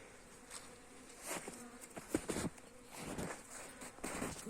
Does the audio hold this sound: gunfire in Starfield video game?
no